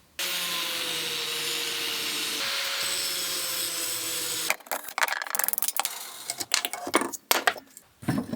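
A grinder cuts rivets off an old metal crutch, a steady loud whine for several seconds, then breaks into scraping, clattering and handling noises of metal parts.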